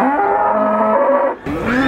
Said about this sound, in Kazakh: Енді туатын жас сиырлар.